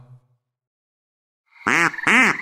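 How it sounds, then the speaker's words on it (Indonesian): A mother goose swimming with three goslings gives two loud, close, harmonic honking calls in quick succession after a near-silent stretch. "ada ibu angsa dan ketiga anaknya sedang berenang"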